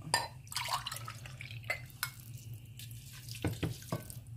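Water poured from a mustard glass onto uncooked rice in a pot makes a soft, faint trickle with small splashing bursts and a low hum behind it.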